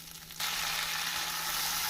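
Onion and garlic sautéing in a pan for black chickpea curry: a quiet start, then a sudden jump into a loud, steady, close sizzle that holds to the end, with a low hum beneath and no voices.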